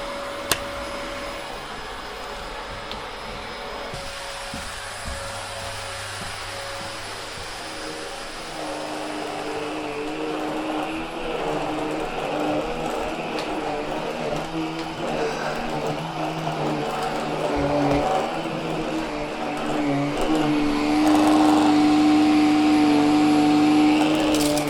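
A Hoover H Upright 500 Sensor Plus upright vacuum cleaner runs throughout with a steady motor whine and airflow roar that grows gradually louder and rises in pitch toward the end, with no voices.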